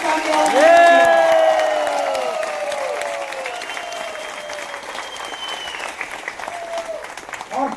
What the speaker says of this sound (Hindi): हमारे ग्रेट सीएमडी सर के लिए जोरदार तालियां।